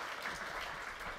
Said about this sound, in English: Big round of applause for Scott Barry Kaufman and Heather Berlin.